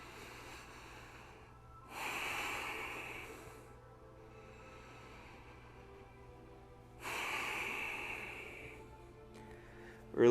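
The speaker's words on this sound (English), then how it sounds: "Just take 2 more rounds of breath here." Two long, deep breaths in a live yoga studio class, each a broad airy rush lasting several seconds, separated by quieter pauses over a low steady room hum.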